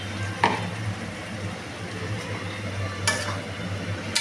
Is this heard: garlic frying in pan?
yes